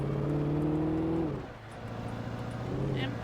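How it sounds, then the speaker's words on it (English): Pickup truck engine in Alan Wake revving with a steady droning tone that dips briefly midway, then picks back up, while someone talks over it. "Tokyo Drift in the pickup truck."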